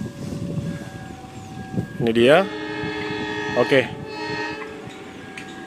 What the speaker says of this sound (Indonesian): kita akan lihat di sini kereta api Prabowangi melintas langsung stasiun Kotok